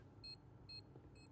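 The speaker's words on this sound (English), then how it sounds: "Bomb timer slowly ticking away." A Counter-Strike bomb timer beeps three times at an even, unhurried pace, thin and high-pitched, sounding faint and distant over a low background hum during an ESEA League match.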